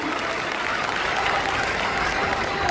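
Dense, steady applause from a large crowd at a political rally, continuous and loud throughout with a broad roar of clapping and no individual voices standing out.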